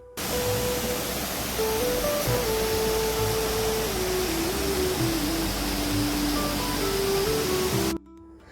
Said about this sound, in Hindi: रास्ते में हमें मिला ये सुंदर सा झरना जिसकी मैं आपको आवाज जरूर सुनाना चाहूंगी।